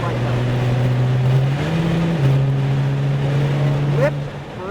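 A Nissan GT-R engine accelerates under power on a road drive, a steady loud drone that rises slightly in pitch, with a brief pitch step midway and a quick rising sweep near the end, continuous and close throughout.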